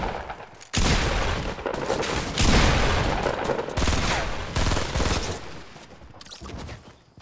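Continuous gunfire in the Fortnite Battle Royale video game, sustained bursts of shotgun and automatic fire packed closely together, loud and dense for several seconds before tapering off.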